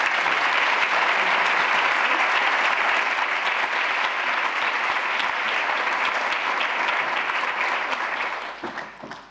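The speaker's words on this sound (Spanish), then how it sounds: "únanse conmigo en un aplauso para recibir a Max Hollein" Audience at a museum lecture applauding to welcome Max Hollein, a dense, even wash of clapping from many hands that holds steady and then thins out and fades near the end.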